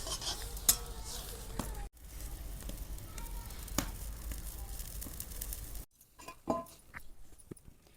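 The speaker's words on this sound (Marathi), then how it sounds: "आता ह्याला छान अशी उकळी आली की मग आपण ह्यामध्ये बेसन गरगटून घ्यायचं." Gram flour being stirred into boiling water in a pot over a wood-fired stove, with faint sizzling, utensil scrapes and clinks against the pot, a few sharp knocks and a brief quiet break partway through.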